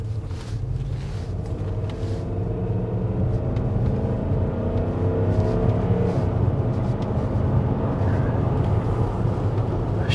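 A Range Rover Lux SUV engine runs steadily while driving, a low continuous rumble with road and wind noise that swells slightly midway, heard from inside the cabin.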